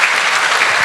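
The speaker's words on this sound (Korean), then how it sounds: "두 학생에게 박수 한 번 더 주십시오." Steady applause from an audience, dense and continuous throughout a brief burst, with no voices over it.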